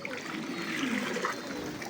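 Water being poured and stirred together with a pigeon vaccine, a quiet steady trickling and swirling of liquid heard close up with no talking.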